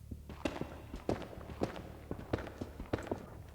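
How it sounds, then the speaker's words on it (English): Footsteps in a Minecraft hardcore world, a series of irregular soft thuds and scuffs close by, spaced about half a second apart over low background hum. "I hear footsteps."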